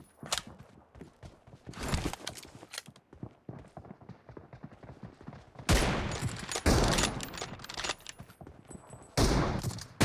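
Rapid bursts of gunfire in the BGMI (PUBG) battle royale mobile game, rattling volleys and single cracks that come in clusters and grow louder and denser toward the end.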